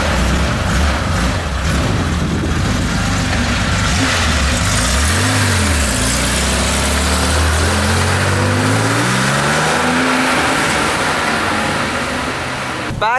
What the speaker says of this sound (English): Going to drive the Porsche down first